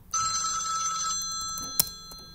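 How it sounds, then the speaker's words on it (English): An Android phone rings with an incoming call, a bright electronic ringtone that sounds for about a second and then stops, followed by a single sharp click. "So this one, the Android, will ring,"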